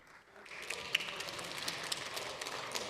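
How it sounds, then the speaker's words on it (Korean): Applause from the members' seats in the Korean National Assembly plenary chamber rises from quiet into a steady patter of distant clapping. "의원석에서 박수가 나오고 있습니다"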